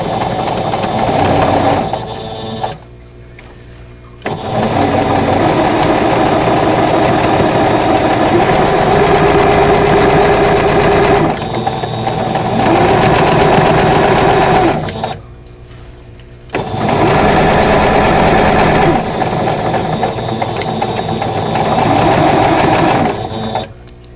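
Sewing machine stitching the seams of a vintage pieced tulip quilt block, running in long loud steady bursts broken by two brief pauses, with no talking.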